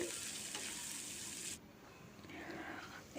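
Softening onions fry in a pan with a quiet, steady sizzling hiss that dips briefly midway and then carries on, with no voices.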